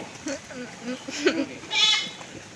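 Calf bleating at a village Mattu Pongal cattle celebration, two or three short, nasal cries, the loudest near the end, over a steady background of voices talking.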